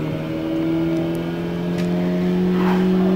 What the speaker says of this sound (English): as we turn the ignition to start up the engine, the simulation will begin just as if you were actually starting your car